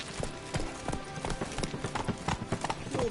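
Roach the horse's hooves clip-clop steadily on the ground in Witcher 3, a brisk, continuous rhythmic trot heard up close with faint voices in the background.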